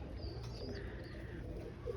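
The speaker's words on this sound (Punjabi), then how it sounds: "ਕਬੂਤਰ" Pigeon chicks and adults on a rooftop coo softly and steadily, with a few thin chirps above, fairly quiet and close, no talking.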